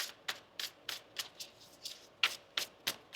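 Tarot cards being shuffled by hand in a steady series of crisp riffling bursts, about ten close, clear flicks with short pauses between them and no talking.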